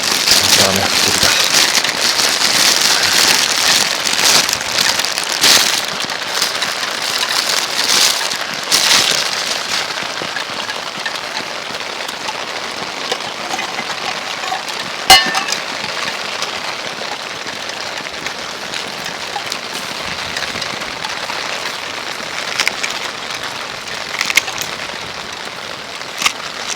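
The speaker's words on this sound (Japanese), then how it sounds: "雨降ってきた。" Heavy rain drums steadily on a small dome tent at a deserted island campsite, a dense continuous patter with occasional louder drops and cracks throughout, loud and close with no pause.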